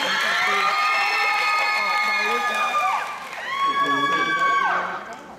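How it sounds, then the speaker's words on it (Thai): A concert crowd of fans, many of them children, cheers with high shrill shouts and whoops, loud and close, swelling in two waves with a brief dip between. "ขอเสียงปรบมือให้กำลังใจน้องๆกับสตาร์ดังๆครับ"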